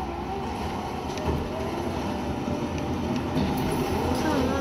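A train rumbles past in a video game set in Australia, a steady low rolling drone that stays loud and continuous throughout, with no clear speech over it.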